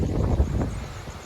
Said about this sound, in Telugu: గాలి చూడండి ఎట్లా వస్తుందో